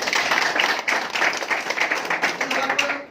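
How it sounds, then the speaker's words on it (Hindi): A small group claps enthusiastically for someone at a gathering, a fairly close burst of individual hand claps with distinct sharp strikes in a loose rhythm, slightly sparse rather than a full crowd roar. "इनके लिए एक बार जोरदार ताली होना चाहिए।"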